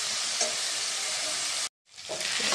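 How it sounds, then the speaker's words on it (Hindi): Chilli chicken ingredients fry together over a full gas flame, a loud, dense sizzle that drops to silence for a moment and then comes back, with a few faint stirring knocks. "गैस का पूरा फुल फ्लेम में डाल दिया हूँ और ये सब एक साथ फ्राई कर रहा हूँ"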